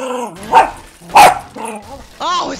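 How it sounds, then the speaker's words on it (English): A dog barks in another room, giving a few loud, sharp barks and yips spaced across a couple of seconds, close and clear. "it's the dog in the other room"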